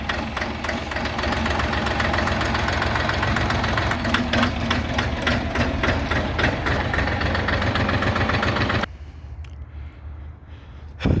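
An Orion 244 tractor engine idles loudly with a steady knocking chug, then drops abruptly to a quieter low rumble near the end.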